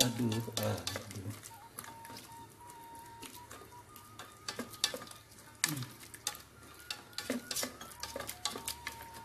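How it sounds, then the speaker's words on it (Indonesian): Vegetables stirred in coconut milk in a pan, soft repeated scraping and clinking of a utensil against the pan with gentle sizzling underneath, fairly quiet and close, with a brief voice near the start. "Kita aduk-aduk."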